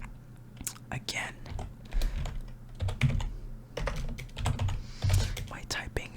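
Rapid, uneven keystrokes on a computer keyboard, close and crisp, clicking in bursts with short pauses while a soft whispering voice murmurs underneath.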